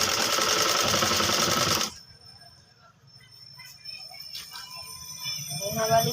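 A sewing machine stitches a folded collar on a ladies' coat-style kurti. It runs as a loud, steady whirring burst for about two seconds and then stops, leaving quiet handling noise.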